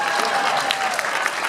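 Applause from a concert audience for a folk duo, a short, dense burst of clapping at steady volume with no voices over it.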